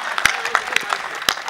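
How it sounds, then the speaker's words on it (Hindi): An audience at a Mahamurkh Mela poetry show claps in sparse, scattered bursts to honour the Uttar Pradesh police, the claps sounding fairly soft and uneven. "एक बार पुलिस के सम्मान में जोरदार तालियां बजाइए।"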